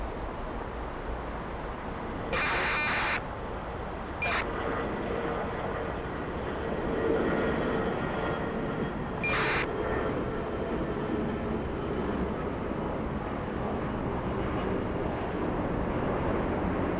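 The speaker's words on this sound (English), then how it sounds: "LA flights coming in." A jet airliner arriving at Atlanta's Hartsfield-Jackson airport makes a broad, steady distant roar that swells gently and lingers, with a few short bursts of static-like noise early on.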